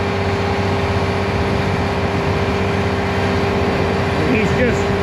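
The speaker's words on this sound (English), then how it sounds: "We just revved her up high gear." A test baler machine, a big round baler fitted with belts, runs with its engine revved up in high gear, giving a steady, loud mechanical drone with a constant hum that holds without a break, while a voice talks over it.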